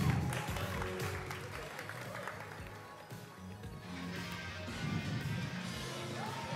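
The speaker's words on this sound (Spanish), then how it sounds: "¡Un aplauso para Kiara Storm!" An audience at an awards night claps and cheers steadily throughout, a broad wash of applause with crowd noise and some voices mixed in.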